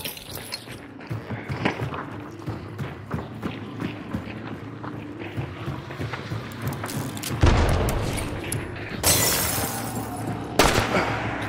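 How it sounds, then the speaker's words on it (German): Gunfire in the video game Hunt: Showdown, scattered shots and booms inside and around a house amid game ambience, with a louder burst of shots near the end and occasional voices. "Ach, die schießen auf Goldi."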